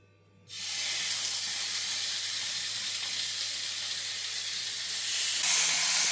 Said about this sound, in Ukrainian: Після цього відправляємо їх на пательню.